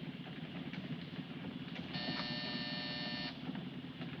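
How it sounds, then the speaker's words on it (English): A door buzzer inside a car in the 1952 film noir Kansas City Confidential gives one steady, harsh electric buzz of about a second and a half, sounding over a constant engine and road rumble. "Hit that buzzer."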